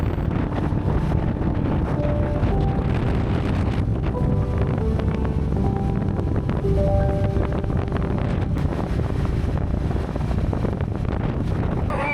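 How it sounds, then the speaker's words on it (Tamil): Strong wind buffets the microphone during a motorcycle ride on a Triumph Scrambler 400 through Meghamalai, Tamil Nadu, a steady dense roar that fills the whole stretch with a faint engine drone underneath. "இந்த பகுதியில் காற்று நிறைய இருக்குதுன்னு நினைக்கிறேன்."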